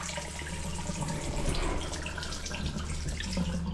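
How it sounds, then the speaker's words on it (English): Tap water running at poor pressure into a sink during a plumbing job, a steady thin hissing flow that carries on throughout with no talking. "The water pressure in this house is absolutely shocking."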